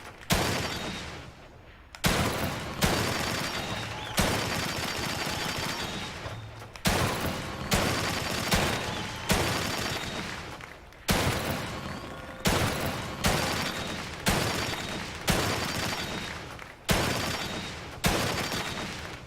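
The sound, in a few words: gunfire in The Evil Within 2 video game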